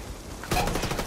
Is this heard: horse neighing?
no